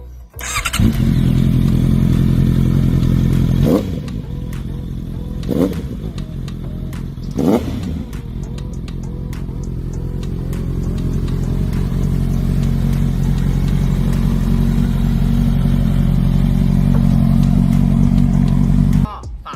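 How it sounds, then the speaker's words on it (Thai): A Honda CBR650R motorcycle engine idles loudly up close, then is revved in three sharp bursts before settling and gradually rising again in a steady roar. "เดี๋ยวเรามาฟังเสียงเครื่องยนต์กันต่อเลยดีกว่านะครับ"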